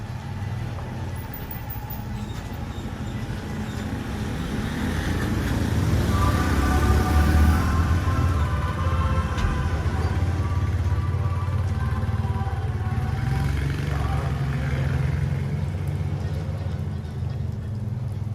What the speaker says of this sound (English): That truck passing by, you just gotta wave your hand and the guy will stop for you.